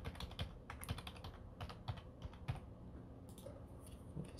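Quick, light key presses on a computer keyboard while a credit card number is entered, a rapid irregular clicking of about a dozen taps, fairly close and quiet, with no speech.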